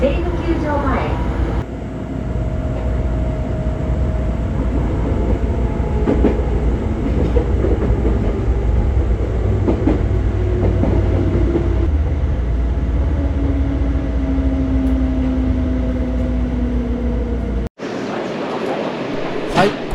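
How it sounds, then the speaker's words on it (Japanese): Inside a Seibu Railway local train on the Sayama Line bound for Seibukyujo-mae, a steady rolling rumble carries rhythmic clickety-clack and motor whine. Onboard announcements play over it, and the sound cuts out abruptly near the end. "この電車は各駅停車西武球場前行きです。"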